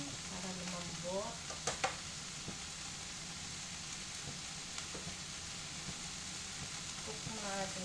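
Fried rice sizzling and frying in a pan, a steady crackling hiss with a few sharp clinks and stirring scrapes near the start and end, with some talk in the background.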